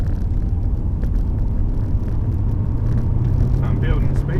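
Car accelerating on a national speed limit UK road, building speed in third gear while merging from a slip road with a lorry closing behind; steady loud engine and road rumble throughout, with a voice talking over it.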